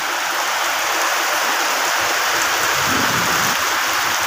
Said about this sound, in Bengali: এই যে দেখো বাইরে পড়তেছে বৃষ্টি